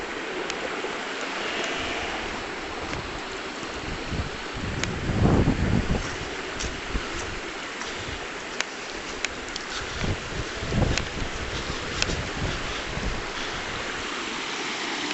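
A mountain tributary stream near the River Foyle flows with a constant rushing wash, mixed with gusts of wind buffeting the microphone, heard steadily for about fifteen seconds.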